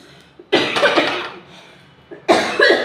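A person coughs in a home kitchen during cooking, two separate bursts of harsh, close coughing with a quiet pause between them.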